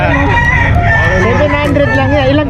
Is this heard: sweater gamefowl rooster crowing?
yes